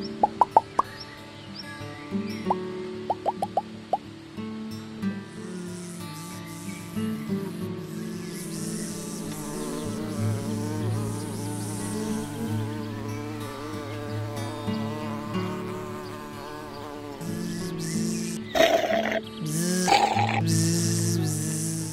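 Bees buzz around flowers in a garden, a soft wavering drone that rises and falls over a sustained background, with a few brief plops early on and louder close passes near the end.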